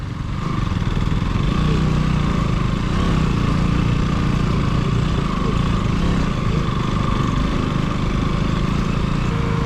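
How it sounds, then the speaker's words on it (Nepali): A motorcycle rides a rough dirt mountain trail on the way to Kalinchowk, Nepal, its engine a loud, steady drone with wind rumble for the whole stretch and no talking. "पुरा हुइली हान्दा छ बाइकले त"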